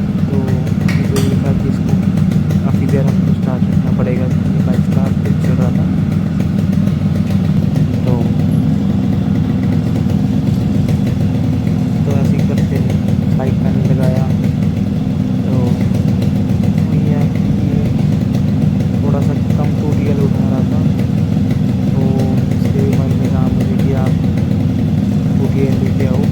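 A freshly rebuilt Yamaha RX135 five-speed two-stroke motorcycle engine runs steadily close by, a loud, continuous buzzing idle that stays even throughout while someone talks over it.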